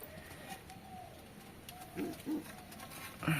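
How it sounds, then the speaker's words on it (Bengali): A pigeon, the oldest in a home loft, gives low soft coos, two short murmuring bursts near the middle and another at the end, over quiet background rustle. "এই পায়রাটা আমার সব থেকে পুরনো পায়রা বাড়ির"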